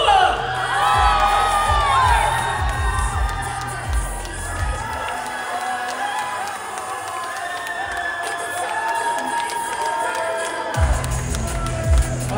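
A festival crowd at an anime and otaku convention in Troyes roars and whoops for an Itachi Uchiha cosplayer. Loud, sustained cheering swells and dips across the whole stretch with scattered shouts and a few claps.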